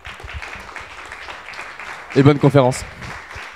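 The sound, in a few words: audience applause for a speaker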